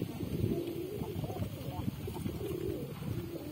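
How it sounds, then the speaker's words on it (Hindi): Pigeons coo in low, soft, repeated calls outside a loft where the birds roam and feed on the ground, with a person talking over them throughout. "देखिए यहाँ लॉफ्ट से बाहर मेरे कबूतर यहाँ पर घूम रहे हैं"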